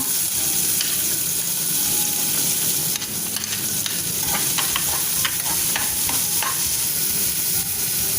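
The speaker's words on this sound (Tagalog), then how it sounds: "And then I put now the onion." Onion sizzles in hot vegetable ghee with a constant loud hiss, while a spoon stirs and taps against the pan now and then.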